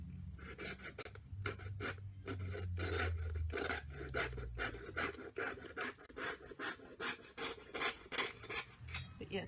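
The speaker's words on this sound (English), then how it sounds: "I'll sand it with some sandpaper in a second." Sandpaper rubbed back and forth on a plastic model kit part, a close, steady run of rasping strokes in quick rhythm, each stroke clearly separated, with no talk over it.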